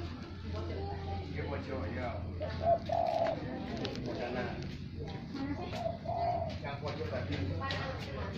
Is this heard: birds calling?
yes